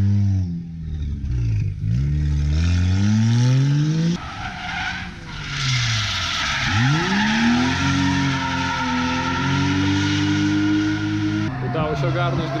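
Drift car at full throttle on a Japanese circuit, engine revving hard with rising and falling pitch sweeps while tires skid and squeal continuously, loud and close, with a brief voice near the end.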